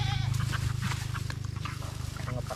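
Goats bleat a few times close by over a steady low engine-like hum, with scattered rustling and movement sounds.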